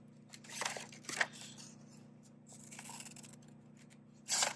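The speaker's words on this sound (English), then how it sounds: "Notice that while I'm cutting this out, it's still folded." Scissors cut through a folded paper template for a coil vase in a few short crisp snips and rustles, quiet and close, with gaps of near silence between cuts.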